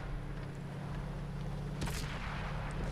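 Artillery fire in the tank game World of Tanks, one heavy booming shot over a constant low engine rumble, loud and close, with no speech.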